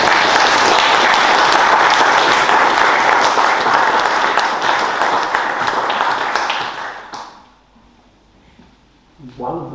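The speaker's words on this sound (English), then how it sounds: "I think we ought to give them a clap." A church congregation at a harvest festival applauds in a loud, dense burst that fades out after about seven seconds, followed by near silence and then a voice speaking.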